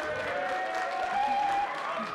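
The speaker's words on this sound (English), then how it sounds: "And also a big round of applause for Miss Impresha, our guidance intern, who put this whole thing together." Audience applause for a guidance intern at a school college and career day, a moderate, steady patter of clapping with a faint tonal hum running through it.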